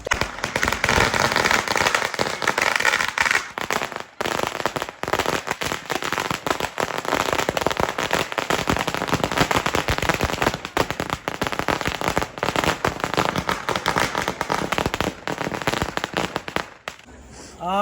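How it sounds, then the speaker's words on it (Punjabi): A 2,000-cracker string of firecrackers pops and bangs nonstop at close range at Diwali, a loud continuous crackle that cuts out near the end. "2000 ਲੜੀ 2000 ਪਟਾਕੇ ਦੀ ਲੜੀ"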